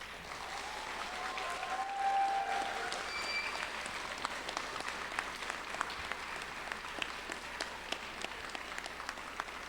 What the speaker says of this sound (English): give them the loudest round of enthusiastic applause that you can ever do